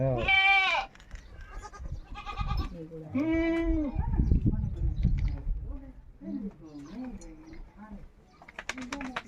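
Goats bleat loudly and repeatedly in a rural village yard in Adilabad district, the wavering cries rising in bursts between moments of nearby speech and background animal sounds.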